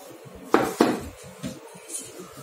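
Powdered sugar being mixed for a mojito: a few sharp clinks of a spoon against a glass or dish, two close together and then fainter taps, with no talking.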